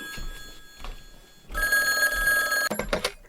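A telephone rings in a French audio drama: a bright electronic ring bursts in loudly for about a second, then quieter clicks and room sounds follow, with no speech.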